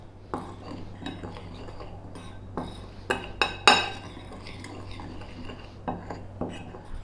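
Spice powders such as garam masala, nutmeg, chili powder, turmeric, cumin and coriander being stirred in a bowl, with a soft scraping of a utensil and several sharp clinks against the bowl's side.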